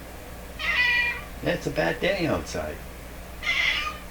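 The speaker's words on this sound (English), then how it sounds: "That's the cat's way of talking." A house cat meows twice, clear and close, with someone speaking in between the two calls.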